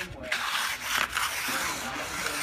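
A float rubbing down a fresh first coat of sand and cement render on a brick wall, making a steady, close, gritty scraping that continues throughout.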